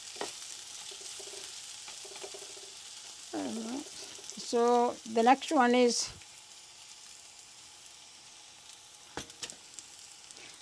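Potato bhaji (aloo bhaji) sizzling and frying in a pan over medium-high heat, a steady hiss running throughout while a person speaks briefly in the middle.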